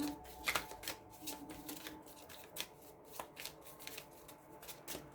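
Oracle cards shuffled by hand for a tarot-style reading, a steady run of soft riffling and flicking bursts, close and fairly quiet, with no talk over it.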